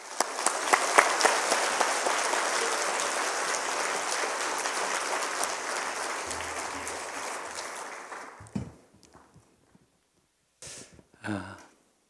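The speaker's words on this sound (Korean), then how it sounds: "나오실 때 우리 뜨거운 박수로 환영하십시오." A church congregation at a Wednesday worship service gives warm, sustained applause for about eight seconds, then it fades out, leaving quiet room sound and a few brief rustles.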